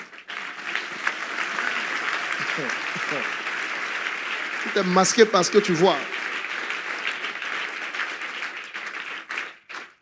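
Church congregation clapping and cheering, a continuous wash of applause running throughout, with a preacher's voice and shouts breaking over it in the middle.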